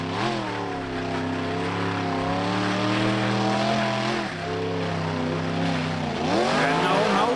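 A rally car labours uphill at the 2002 Bolalda event, its engine loud and close in a sustained, strained rev, the pitch briefly dropping twice before climbing again, with no voices.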